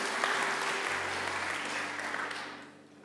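Applause rises from a church congregation during a worship service, a dense, steady wash of clapping that stays fairly loud, then thins and fades toward the end.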